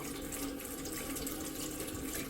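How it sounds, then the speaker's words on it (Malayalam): Kitchen tap running steadily into a clogged sink, a continuous close rushing and splashing of water with no talk. "ഞാനിപ്പോ ടാപ്പ് ഓപ്പൺ ആക്കിയിട്ടാലും ഇങ്ങനെ കിടക്കും, താഴോട്ട് പോകത്തില്ല."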